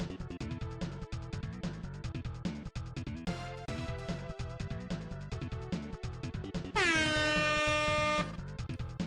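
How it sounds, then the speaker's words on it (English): Air horn blasted during a SpeedBump robot-pack triathlon race stream, a loud sustained honk of about one and a half seconds cutting over busy, rhythmic game music. "Ignore my air horn."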